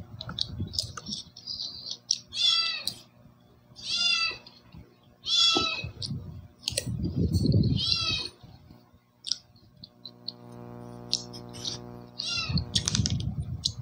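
A cat meows repeatedly in drawn-out, whiny calls close by, some in quick bursts, with brief clicking sounds between them and no speech over it.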